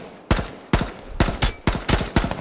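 Rapid automatic gunfire rings out in the video game H1Z1 as several loud, punchy bursts of shots, each a few quick rounds, repeating about every half second with no talking.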